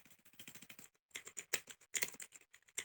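Quick, light keystrokes on a computer keyboard click in short bursts with a brief pause in the middle, close and fairly quiet, with no talking.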